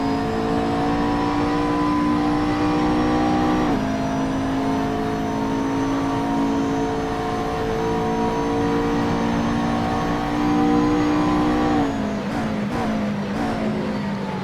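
A GT-class Aston Martin race car at Virginia International Raceway accelerates hard down the straight, its engine a loud, continuous rising roar with gear-change dips near the start and again late on, heard alone without talk.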